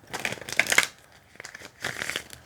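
A tarot clarifying deck is shuffled by hand in two short bursts of crisp card riffling and crinkling, close and fairly quiet, separated by a brief pause.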